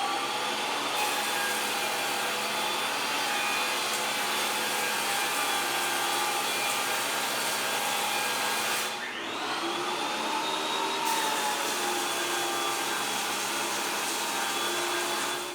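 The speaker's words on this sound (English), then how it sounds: "I've got both planers set to pull off what the maximum cut the machines are supposed to do at 1/8 of an inch." Ridgid TP1300 and Shop Fox W1877 thickness planers taking a 1/8-inch cut on a 2x4, a steady loud roaring whine that briefly dips near the middle before resuming at full force.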